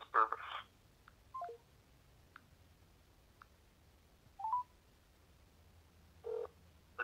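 Telephone keypad tones sound as a number is dialed, with a few short bursts of two-tone dialing spread across a quiet line and separated by pauses.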